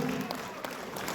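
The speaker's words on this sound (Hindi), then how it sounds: "तो एक बार जोरदार तालियां होनी चाहिए." A brief stretch of audience applause at a real estate awards event, a steady wash of clapping from a crowded hall.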